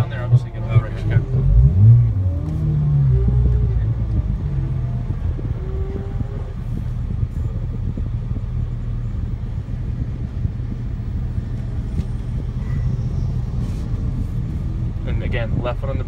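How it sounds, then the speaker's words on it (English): A Porsche 997 GT3 launches under launch control, its engine note sweeping up sharply in a rising whine, then settling into a loud, sustained rumble of hard acceleration, with people talking over it. "we have a GT3 launch control test"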